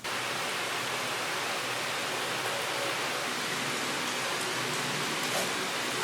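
Steady, unbroken rain falls outside a home under renovation, a dense even hiss that stays at a constant loud level for the whole stretch with no voices over it.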